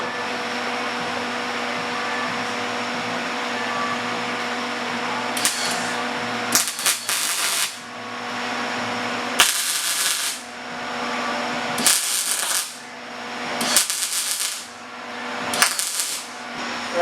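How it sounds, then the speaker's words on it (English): Welding tacks a rear floor pan panel into a Jeep CJ7, sounding as several loud crackling buzzy bursts of a few seconds each, separated by pauses, over a constant droning machine hum nearby. "I'm going to start with tacking in the back panel here, just along the seam line."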